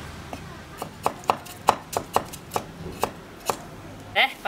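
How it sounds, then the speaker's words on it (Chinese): A knife chops ginger into shreds on a cutting board, about a dozen crisp, fairly regular taps close by, followed by a brief clatter at the end. "再把姜给切丝"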